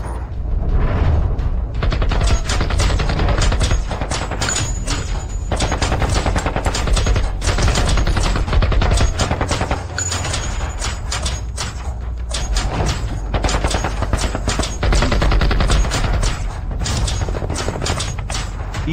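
Rapid, relentless gunfire rattles through a drama fight scene as bullets pound into a man, with dense bursts of shots and impacts filling the whole stretch at high volume.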